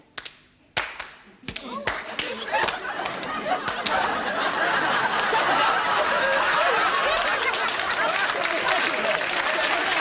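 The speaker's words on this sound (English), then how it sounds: "you clap your hands and I hit, and then you go to hit me and then I clap" A few sharp hand claps ring out in a 1975 television game show studio, then a studio audience breaks into dense, sustained applause that stays loud to the end.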